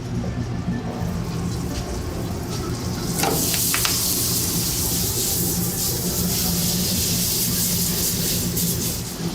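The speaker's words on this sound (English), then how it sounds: "once you hear it sizzles" Steady loud sizzling and crackling of sauce in a hot pan, continuous and close, with no talking.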